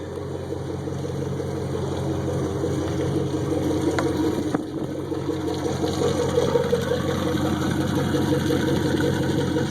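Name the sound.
2003 Malibu Response wakeboard boat exhaust idling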